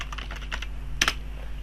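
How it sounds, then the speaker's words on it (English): Quick clusters of keystrokes tap on a computer keyboard, close and crisp, ending with a sharper double click, with no talking. "let's type IPconfig"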